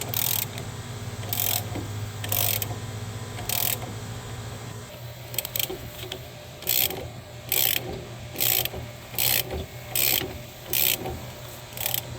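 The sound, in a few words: ratchet loosening lower strut bolt on Dodge Charger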